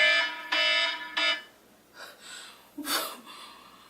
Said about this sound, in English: I need to change my alarm, like, now.